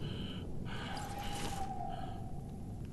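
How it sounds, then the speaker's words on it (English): Heavy, drawn-out breathing from a character in Mortal Shell, a dark fantasy action game, with a few gasping breaths over a steady low game ambience and a faint sustained tone. "Is that him breathing hard?"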